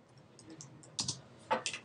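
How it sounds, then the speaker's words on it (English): Quiet keystrokes on a computer keyboard come as a few soft, scattered clicks, faint and close, with a short cluster near the end and no talking. "I type this word."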